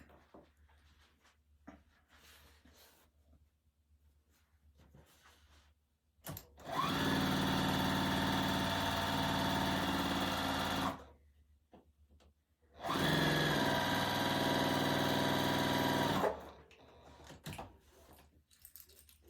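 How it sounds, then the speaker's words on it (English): A sewing machine stitches quilt block rows together in two sustained bursts of rapid mechanical whirring, each lasting a few seconds and separated by quiet pauses with faint handling sounds. "And now we can sew our rows together to construct this block."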